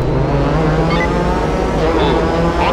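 In the PS2 racing game R:Racing, a race car engine roars steadily as it accelerates, loud and continuous throughout with no break.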